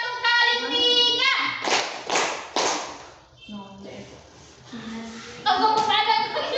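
Children in a classroom doing a multiplication clapping chant, a few sharp group claps breaking up sung and spoken lines, with a teacher's and kids' voices around them.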